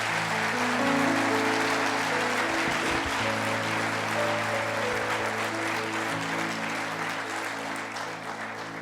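A church congregation applauds steadily, a dense sustained clapping at moderate level that slowly fades toward the end, with low musical tones underneath.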